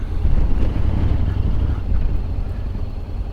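Strong wind gusts buffet the microphone at a mountain valley viewpoint on the Venus Skyline in Japan, a low roaring rumble that swells and eases in uneven waves.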